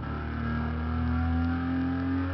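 Lotus sports car engine in Test Drive Unlimited 2 holding a steady, loud mid-pitched drone with a slight swell partway through, no voices over it.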